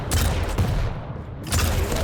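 Rocket fire and explosions in a competitive Warsow-style shooter match: a sustained, dense barrage of loud blasts and bursts that dips briefly in the middle before surging again, with no talk.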